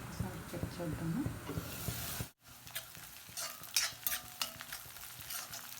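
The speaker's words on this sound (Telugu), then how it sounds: "ఇవి మంచిగా ఆనియన్స్ గోల్డెన్ కలర్ వచ్చే వరకు వేగనిద్దాము" Onions and garlic fry under a lid in a covered pan for a turmeric curry, giving a continuous close crackling sizzle that briefly drops out, then returns with scattered sharper pops and spatters.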